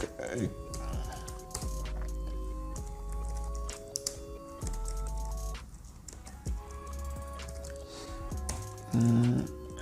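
Typing on a computer keyboard, bursts of quick key clicks and taps in an uneven rhythm, close and soft, with background music playing throughout.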